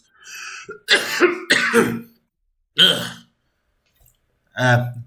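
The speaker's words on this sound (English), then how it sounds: "I've been having a bit of coughing issues for a few days." Close, repeated coughing and throat clearing from one person, several rough bursts separated by silent pauses.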